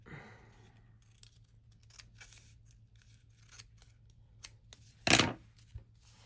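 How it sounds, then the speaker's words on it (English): Scissors snip and trim paper on a craft tote, with one loud cutting burst standing out over faint handling noises and a low background hum. "I'm going to cut with scissors and kind of trim that a little bit."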